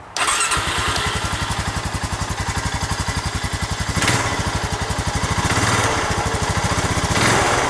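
Honda Rancher ATV engine fitted with a quiet aftermarket muffler, idling up close in a steady, rapid chugging pulse with brief revs, loud and continuous with no talking.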